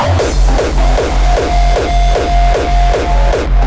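A dark, raw hardstyle drop pounds along with heavy distorted kicks on a steady fast beat, a bright synth line sliding over the top.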